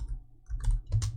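Quick clicks from a computer keyboard while PHP code is typed: a few sharp, close keystrokes in an irregular rhythm, recorded quietly with no talk.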